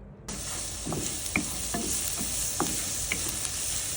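Hot cooking oil sizzles steadily in a pan for sautéing, a close, continuous frying hiss with a few light scrapes and taps from stirring.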